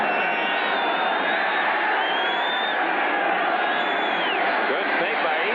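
Crowd at the Los Angeles Coliseum during a 1985 AFC playoff football game between the New England Patriots and the Raiders, a steady broad roar of many voices throughout with a few whoops rising above it.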